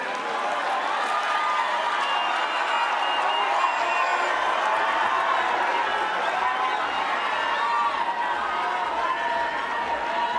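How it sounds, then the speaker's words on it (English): Sustained applause and cheering from a large conference audience at a devolution conference, a dense steady roar of clapping and voices filling the whole stretch without pause. "Another round of applause, please"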